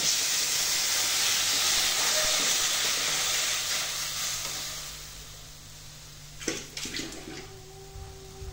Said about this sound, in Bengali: কিছুটা ভাজা ভাজা হয়ে গেছে, এখন আমি জল দিয়ে দিলাম।